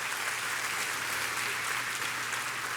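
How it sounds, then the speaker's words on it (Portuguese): A church congregation applauds, a steady, dense wash of clapping that holds throughout the short clip without pause. "Dá uma salva de palmas ao Senhor"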